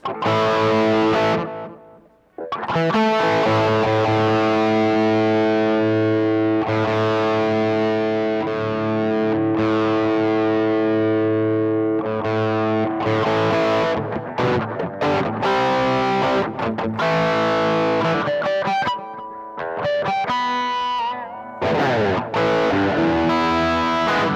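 A heavily distorted electric guitar, a Les Paul, plays sustained chords and riffs, loud and continuous, with a brief dip near the start.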